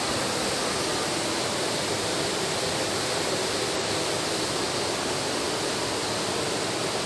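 Steady broadband rush of a stream flowing through a valley, like water running over rocks, continuous and fairly close with no voices.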